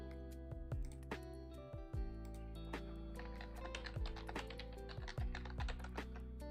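Computer keyboard typing with rapid irregular clicks and taps, close and clear, with no talking.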